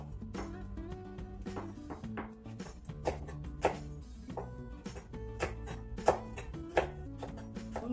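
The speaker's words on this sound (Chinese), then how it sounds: "把葱也切成三厘米的小段。" A knife cuts scallions into 3 cm pieces on a board, with quick faint chops in uneven runs under steady background music.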